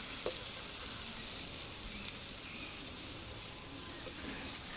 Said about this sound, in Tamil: மல்லி, புதினா, கருவேப்பிலை எல்லாத்தையும் ஆட் பண்ணி நல்லா வதக்கி எடுத்துக்கலாம்.